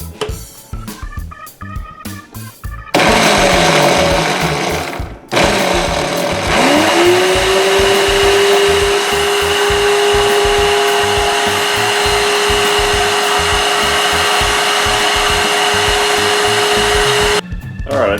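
A Cosori Pro blender grinds sesame seeds and oil into tahini paste, a loud high-pitched motor whine that stops, restarts and ramps up to a sustained steady roar, after brief clattering at the start.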